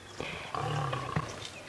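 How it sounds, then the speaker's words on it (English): Lion cubs on a sunrise safari trying to roar, producing a few faint, strained moaning calls at a distance under a low background hiss. "the baby lions are trying to roar"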